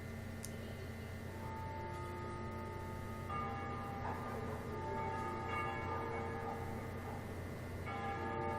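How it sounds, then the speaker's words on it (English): Church bells ringing at dusk in a liberated capital in Ace Combat Zero, a steady sustained ringing with layered tones that swells slightly midway, moderately distant and continuous throughout. "They ring the bells here at dusk to honor the liberation of the capital."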